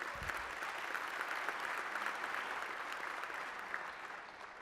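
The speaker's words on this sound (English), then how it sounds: "these guys deserve a huge round of applause for the development" A downtown-development audience applauds at a 2017 State of Downtown address, a quiet, distant-sounding crowd clapping that holds steady for several seconds and thins slightly toward the end.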